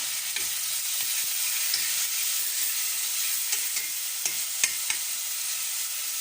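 Minced meat frying with butter and tomato paste in a pan for tarhana, a continuous bright sizzle with occasional soft stirring clicks and scrapes, close and steady with no voices.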